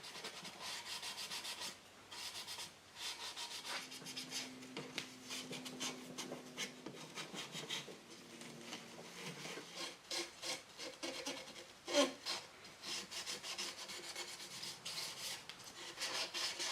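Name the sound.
Scotch-Brite gray pad rubbing over dried paint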